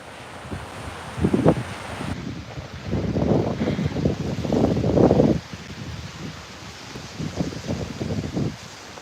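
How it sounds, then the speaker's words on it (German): Wind gusts rise and fall in rushing bursts outdoors during rain and flooding, buffeting the microphone with loud, uneven swells that fade and return. "Und der Wind kommt auf."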